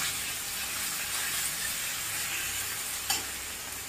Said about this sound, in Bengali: কাঁচা লঙ্কার সাথে পেঁয়াজটাকেও ভেজে নেব